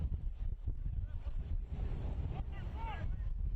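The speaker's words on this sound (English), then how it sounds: "Wind has not relented, up over 20 miles an hour" Strong wind, gusting over 20 to 30 miles an hour at an outdoor soccer match, buffets the microphone with a constant low roar, and faint voices come through underneath.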